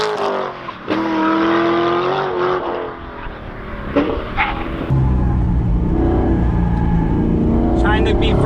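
A Mazda Miata ND fitted with an LS3 V8 accelerates on a race track, its loud engine droning and revving continuously with gear shifts, under someone talking throughout.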